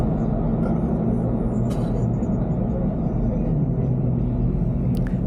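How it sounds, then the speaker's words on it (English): Race cars run on the Circuit of the Americas track in Austin during a fan lap, heard from inside a car as a constant, heavy low rumble with a faint, sharp tick now and then. "you can hear the car, not in front of me, but the two cars in front of that car"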